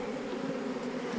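A swarm of agitated honeybees from an opened hive during frame salvage drones in a steady, dense buzz close by, with no talking.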